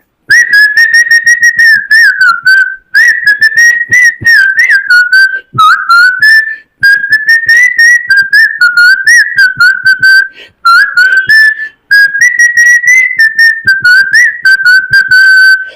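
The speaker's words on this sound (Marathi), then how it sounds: "मी शिट्टीतून गाणं म्हणून दाखवणार" A person whistles a song melody close and loud, in long continuous phrases separated by brief pauses, with no other sound.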